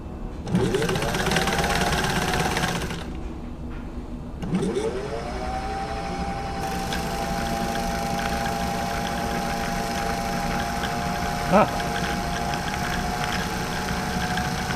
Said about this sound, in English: the tensioner for the bobbin winder is in just the right spot because it's winding nice and evenly there